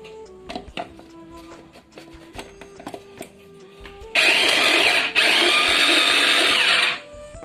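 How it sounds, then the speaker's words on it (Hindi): A mixer grinder runs at full power grinding masala for a dum aloo gravy, a loud steady whir that starts abruptly after some light clattering, pauses briefly, then continues before cutting off. "अब हमने इसको मिक्सर में डाल दिया है। अब हम इसमें जा रहे हैं, अच्छी तरह से इसको ग्राइंड कर लेंगे हम।"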